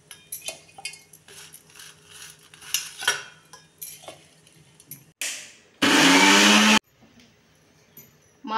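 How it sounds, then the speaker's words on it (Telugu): A mixer grinder whirs loudly for about a second as it grinds sun-dried raw mango pieces into powder, after scattered clinks and clatter of a steel jar and lid, with a brief restart at the end. "ఇప్పుడు మిక్సీ జార్కి వేసుకోవాలి మామిడికాయ ముక్కలు."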